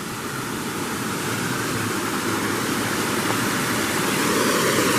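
Water from a limestone-filled diversion well pours steadily back into a creek, a continuous rushing splash close by that holds even throughout with no voices.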